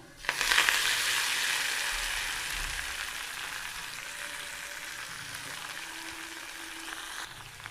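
Chopped spinach greens with garlic hit a hot pan and fry, a loud sizzle bursting in at once and then holding steady and close for several seconds, with no talking.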